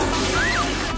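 Short, loud sloshing rush of a toilet being flushed by a cat in a comedy film trailer scene, with a faint tonal whine riding over the water.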